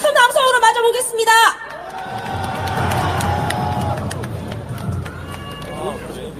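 A crowd at a Korean patriotic party political rally breaks into loud cheering and whooping to welcome a party secretary-general, a sustained roar that swells and slowly fades after an announcer's voice introduces him.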